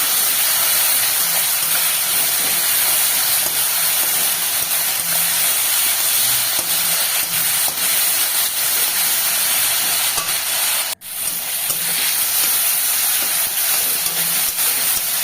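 A loud, continuous sizzle and steamy hiss from tomato, salt and turmeric spice mixture cooking down with a little water in a pan for a hilsa fish dish, unbroken except for one brief dropout near the end, with no talking.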